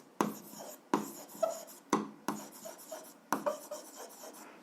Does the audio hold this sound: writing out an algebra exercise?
yes